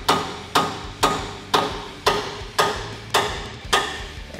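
Hammer strikes knock sway bar links off a 1997-2006 Jeep Wrangler TJ during a lift kit install, eight sharp metallic blows at an even half-second pace, each ringing briefly, close up with no talking.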